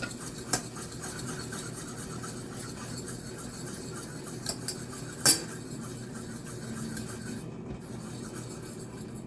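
A fork scrapes and whisks steadily against a bowl, mixing a watery mixture for oven-baked chicken, a continuous faint rasping rub with a few sharper clinks along the way.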